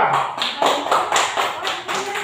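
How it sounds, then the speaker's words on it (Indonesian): A classroom group in Indonesia claps together in a steady rhythmic pattern, loud and close, the beats coming in regular sets. "Tepuk tangan semua."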